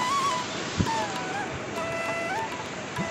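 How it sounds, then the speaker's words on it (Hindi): Waterfall on the Kedarnath pilgrimage trek in the mountains, heard as a steady, broad rush of falling water running continuously, with faint voices and a few brief knocks over it. "ये वो झरना है जिसके यहाँ पे वीडियो वायरल होती है"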